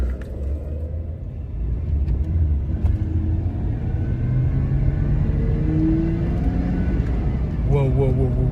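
A BMW E92 on a road test gives a steady low engine rumble and road noise from inside the cabin, with rising tonal whines from the engine revving and someone talking over it.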